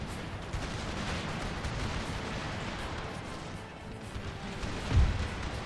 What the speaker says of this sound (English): cannon shots are landing in among our own men